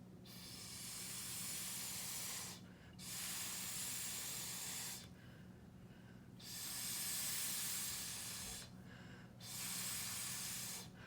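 Four long puffs of breath blown through a straw onto wet acrylic paint, each a soft steady hiss lasting a couple of seconds, separated by short quiet pauses, close and faint.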